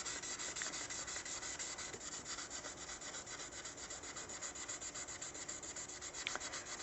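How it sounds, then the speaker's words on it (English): Light hand sanding of resin doll body parts, a steady rapid back-and-forth rubbing scratch, close and quiet, continuous with no talking. "I'm just going to have to lightly sand all of the parts though."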